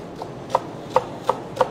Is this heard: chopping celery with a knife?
yes